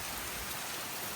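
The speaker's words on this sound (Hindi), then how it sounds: "झमाझम द्यो लग गया देखो गाइस" Heavy monsoon rain pours down steadily, a dense, continuous hiss of drops on surfaces with no pauses and no voices.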